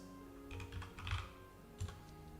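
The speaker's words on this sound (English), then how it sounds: "Sometimes I press the wrong keys." Computer keyboard keys pressed in a few quick clusters of clicks, moderately close and fairly quiet over a steady low background hum, with no talk.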